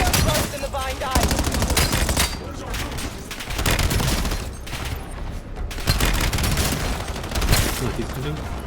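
Rapid gunfire in the Black Ops 7 co-op campaign as players shoot vine growths, dense bursts of automatic shots running almost continuously and loudly throughout, with voices talking over the shooting.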